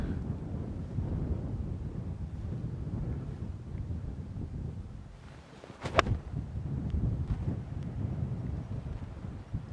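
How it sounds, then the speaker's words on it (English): Steady wind buffets the microphone outdoors on a golf course, a low rumbling gust noise that swells and eases, with one brief sharp knock near the middle. "It's windy."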